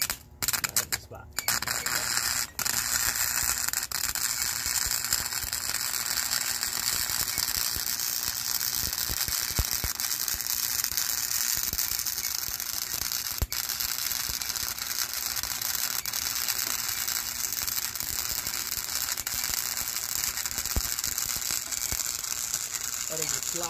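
Steady crackling buzz of MIG welding trailer gate supports with a Vivohome MIG welder, running continuously for over twenty seconds after a few short clicks and starts, close and fairly quiet, with no voices.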